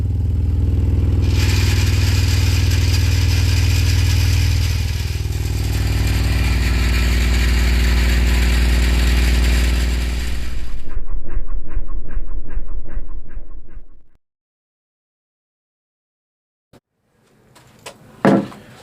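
Heavy, booming bass from a DS18 ZXI10.2D 10-inch high-excursion car subwoofer playing loud for about ten seconds, then rapid pulsing thumps before cutting to silence, followed by a few brief knocks.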